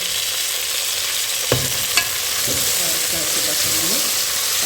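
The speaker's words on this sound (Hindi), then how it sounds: "तो देखिए ये अच्छे से भून रहा है" Mixed vegetables with tomatoes sizzle steadily in a pan, a constant bright hiss broken by a couple of sharp utensil knocks and scraping stirs near the mic.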